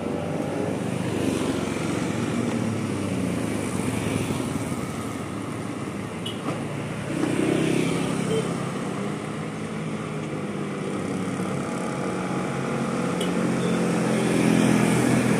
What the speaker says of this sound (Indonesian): Unit guys keluar dari garasi